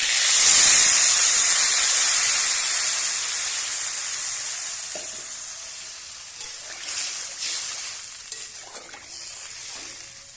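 Water poured into a hot pan of small fish for a thin Bengali curry sets off a loud, steady sizzle and steamy hiss that fades gradually, with faint stirring clatter toward the end.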